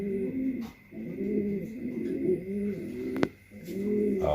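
Racing pigeons of the 003 line, checker cocks, coo up close in repeated throaty phrases with short pauses between, one sharp click near the end.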